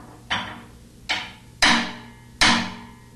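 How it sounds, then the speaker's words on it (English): Four sharp metallic hammer taps on a ring tool pressing down a toploader washer's inner tub seal, evenly spaced at a slow pace, each ringing briefly before fading, close up with no talking. "tap the tool with a hammer to force the upper half of the inner tub seal down"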